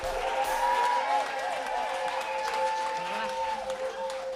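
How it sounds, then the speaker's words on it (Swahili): A youth church congregation claps steadily in praise, a continuous crowd of hands under prominent singing voices. "Tupigie Bwana makofi"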